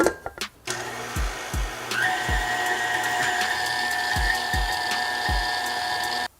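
An electric mixer whisks egg yolks and sugar for eggnog, giving a loud, continuous motor whine that steadies after a brief start, with soft rhythmic thumps from the beaters against the bowl.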